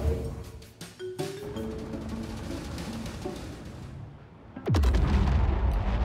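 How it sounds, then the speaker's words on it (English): A bomb dropped from an A1 Spirit bomber onto a derelict outpost in Star Citizen explodes with a sudden loud boom that swells into a sustained deep rumble, following a stretch of steady engine roar and scattered sharp reports. "Oh, explosion."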